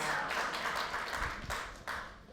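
An audience applauding at a live interview event, a fairly quiet wash of clapping hands with a few sharper claps standing out, steady through the short stretch.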